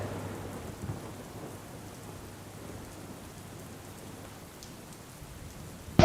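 Heavy monsoon rain pours steadily over flooded Palanpur streets, a constant low hiss with a faint rumble beneath and a sharp burst right at the end.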